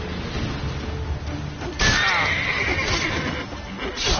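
A horse neighs loudly in The Witcher 3, a sudden whinny breaking in midway over steady background game ambience, with hoof and movement noise after it.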